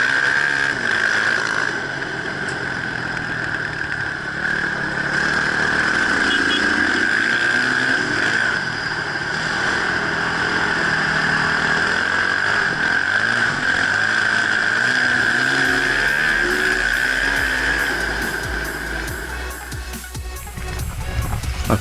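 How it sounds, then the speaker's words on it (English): A Husqvarna TE449 single-cylinder dirt bike engine hums steadily while riding, a sustained mid-pitched drone that holds close and even for the whole stretch, fading out near the end. "The 449 engine's got plenty of poke and stays with all its rivals from the same era"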